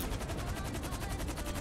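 Rapid automatic gunfire in a video game, with a tank and helicopter in the match: a steady stream of loud, close shots rattling on without pause and no talk over it.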